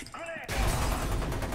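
Rapid gunfire bursts from the first-person shooter F.E.A.R. 2, loud and dense, breaking in abruptly after a brief quiet intro and continuing as a sustained volley with heavy low-end thumps.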